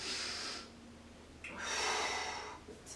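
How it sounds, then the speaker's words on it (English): Deep breaths during a lying-down core workout: a long forceful exhale, a pause, then another big breath out with a gasping edge, close to the microphone and unaccompanied by speech. "Big breath in. Exhale. Big breath out."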